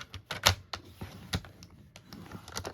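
A paper trimmer scores paper at set measurements along its 5 1/4 inch side, giving a run of sharp, close clicks and short scrapes at an uneven pace.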